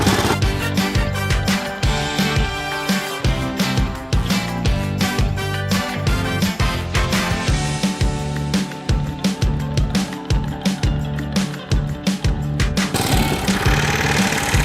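A new Toro Greensmaster 1000 walk-behind greens mower fitted with a spike roll runs close by, its engine loud and constant, with rapid rhythmic knocking and clattering from the spike roll throughout.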